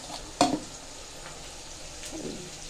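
Onion paste frying in a pan, with a soft steady sizzle, one sharp scrape or clink of the spoon early on and a quieter stirring motion later, close and with no talk.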